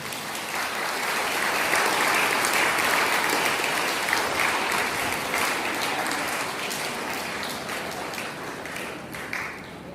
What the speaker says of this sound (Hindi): सभी जोरदार ताली बजा देंगे